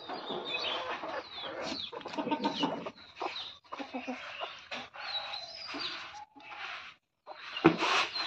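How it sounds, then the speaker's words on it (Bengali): Village hens cluck and chatter in a busy, close cluster as they peck at broken rice grains beside two pigeons, with soft scratching and a voice talking intermittently over them. "তো এইদিকে দেখো মুরগিগুলো আর কবিতর দুটো কত সুন্দর করে খুদি খাচ্ছে।"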